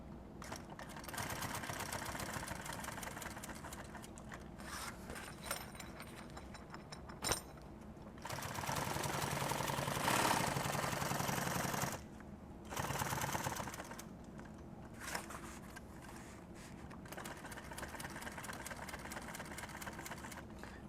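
A sewing machine stitches nylon tactical gear in bursts of steady mechanical whirring, a louder sustained run in the middle, separated by short pauses and small clicks.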